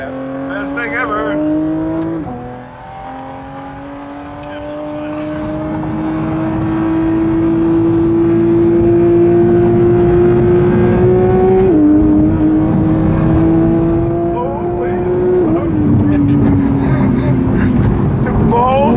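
A Porsche 992 GT3 is driven on a road, its engine pitch climbing steadily through the gears with brief drops at each shift, loud and close from inside the car, with people talking over it.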